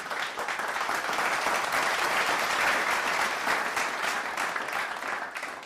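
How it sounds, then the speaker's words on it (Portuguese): A church congregation applauds during a sermon, a steady, dense wash of many hands clapping that holds evenly for several seconds at a moderate distance and tapers slightly at the end. "Você pode aplaudir a Jesus?"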